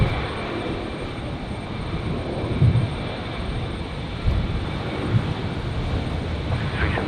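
A Qantas Link Embraer 190 jet begins its takeoff roll on a runway at Brisbane Airport, a steady broadband engine roar heard from a distance that stays fairly constant throughout.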